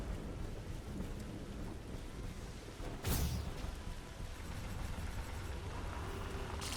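A sharp, loud thunderclap bursts through steady rain during a thunderstorm in The Riftbreaker, then fades back into an even wash of rainfall.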